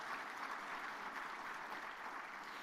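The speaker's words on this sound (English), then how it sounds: "Another warm of applause, actually, to the group that was just here." Steady audience applause at the closing ceremony of an agroforestry world congress, a dense even wash of many hands clapping at moderate distance, sounding fairly quiet and sustained with no voices over it.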